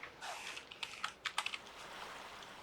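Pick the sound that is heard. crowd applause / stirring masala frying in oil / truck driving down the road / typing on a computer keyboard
typing on a computer keyboard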